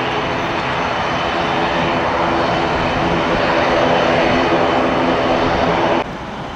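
Jet engines of a Boeing 737-700 roar loudly and steadily at an airport ramp, a broad continuous rumble that holds for about six seconds before dropping slightly.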